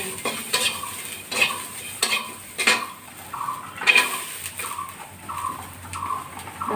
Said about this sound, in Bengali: এই যে রসুনগুলো খালি কড়াইতে একটু তেলে নিচ্ছি